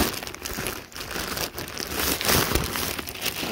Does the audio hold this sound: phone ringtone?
no